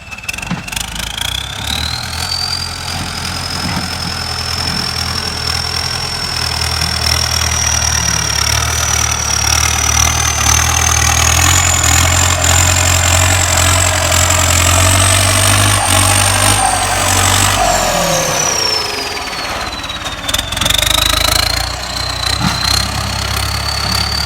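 A Ford 6610 Turbo tractor engine runs loud and close, a steady diesel rumble with a rising and falling whine as the revs shift, then settling back near the end.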